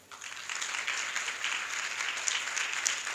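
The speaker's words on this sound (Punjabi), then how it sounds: "ਮਾਸਟਰ ਜੀ ਲਈ ਤਾਲੀ ਵਜਾ ਦਿਓ" A church congregation applauds steadily for a few seconds during a sermon, a dense even wash of clapping from many hands.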